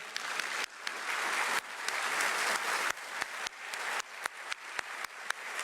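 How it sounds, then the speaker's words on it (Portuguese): An audience at an event in the Palácio do Planalto claps in a sustained round of applause, dense and close at first, then thinning into choppy bursts toward the end. "Só queria pedir uma salva de palmas."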